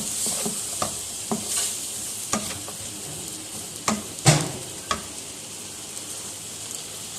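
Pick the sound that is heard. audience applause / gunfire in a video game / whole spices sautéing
whole spices sautéing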